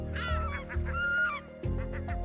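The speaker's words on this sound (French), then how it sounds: "Ici, les goélands font partie du paysage." Loud, repeated honking calls of gulls at a Mediterranean port, several close overlapping cries in quick succession with no talk.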